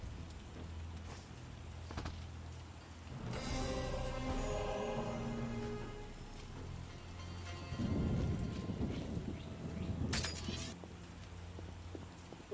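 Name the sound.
rain downpour in The Witcher video game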